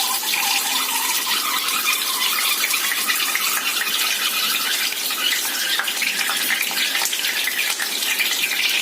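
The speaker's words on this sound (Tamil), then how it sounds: "தக்காளியில் தண்ணி இருக்கும்ல, அந்த தண்ணினால தான் இந்த மாதிரி பபுள்ஸ் வருது" A tomato omelet cooks in a pan, with water from the tomatoes making it bubble and sizzle in a steady, loud hiss close by, with no talk.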